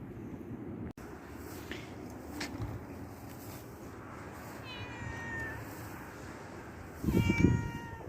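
Cats meow indoors, with a few faint, high mews scattered through a steady background hum and a louder, wavering meow near the end, close by and without speech.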